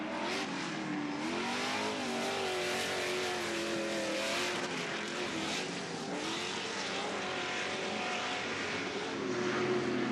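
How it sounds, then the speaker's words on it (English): Off-road race truck engine over-revving in low gears through the corners at Bark River, a steady loud roar with warbling pitch swings over constant outdoor racing noise. "you can hear that horsepower on Dan Badeau going through the corners on the chip"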